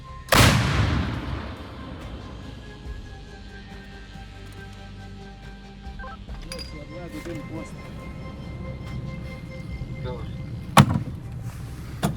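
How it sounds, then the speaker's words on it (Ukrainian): One powerful shot from an M119 howitzer booms at the start and echoes away through forest. Voices and metallic clinks follow. "Гармата! Постріл!"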